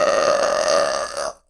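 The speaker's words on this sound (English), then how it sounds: "I'm so sorry. I burped." A single loud, drawn-out burp lasting over a second, steady and resonant, cutting off abruptly into silence.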